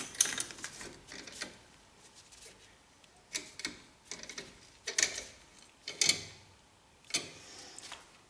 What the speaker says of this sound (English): Get a clamp on the piston end over here near the bleeder.